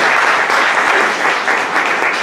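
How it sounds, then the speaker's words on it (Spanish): Audience applause at a pediatric pulmonary hypertension academic session, steady dense clapping from a sizeable crowd, loud and continuous throughout with no voices over it. "le demos un fuerte aplauso a"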